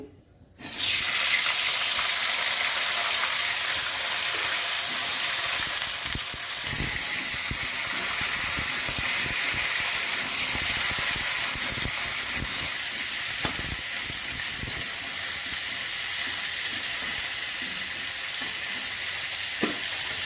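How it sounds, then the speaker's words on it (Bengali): Cauliflower florets fry in a pan with a loud, continuous sizzle that starts abruptly after a moment of quiet, then holds steady with occasional clinks and stirring scrapes, and no one speaks. "এবার ফুলকপিগুলো ভেজে নিচ্ছি"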